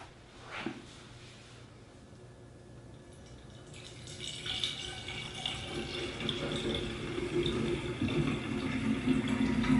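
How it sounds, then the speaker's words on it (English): Water pours into a reservoir for a Swiftech Apogee pump, starting as a thin trickle and building to a steadier, splashing flow over several seconds, fairly quiet overall. "I'm going to put some water in it to simulate your radiator"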